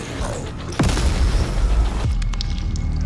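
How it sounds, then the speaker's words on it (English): Two heavy explosions boom out during DOOM Eternal gameplay, each a sudden loud blast with deep rumbling tail, over a dense backdrop of game noise and combat clatter. "And it exploded."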